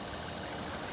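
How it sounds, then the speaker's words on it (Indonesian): A 2021 Suzuki Ertiga Sport with a 1500 cc engine and automatic transmission idles smoothly, giving a steady, even hum close up with no breaks or roughness. "Dan ini suara mesinnya"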